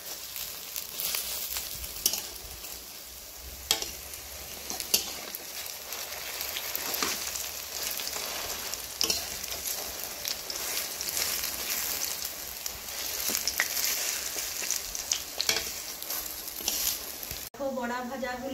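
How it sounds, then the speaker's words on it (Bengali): Gendal leaf fritters (bora) frying in hot oil in a pan, a steady loud sizzle with crackling pops throughout, ending in a brief different noise. "বড়া ভাজাগুলো খুব সুন্দর ভাজা হয়ে গেছে"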